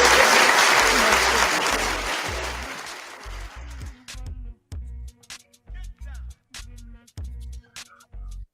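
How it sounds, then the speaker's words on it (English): A small crowd claps together, dense applause that thins out over a few seconds, then someone speaks alone with short pauses. "Give him a hand clap for that"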